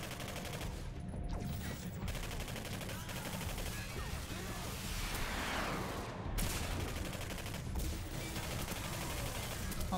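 Sustained gunfire in the shooter game Singularity, a loud rattle of repeated shots with short pauses between bursts and faint voice underneath.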